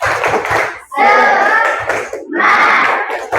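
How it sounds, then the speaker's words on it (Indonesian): A school class performing a 'tepuk semangat' clapping chant, rhythmic group claps alternating with loud shouted chanting in two bursts, close and energetic, with short pauses between. "Coba tepuk semangat."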